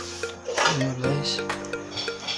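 A spoon stirs pork stew with potatoes in a metal pot, giving a few close clinks and scrapes against the pot over a low simmering background.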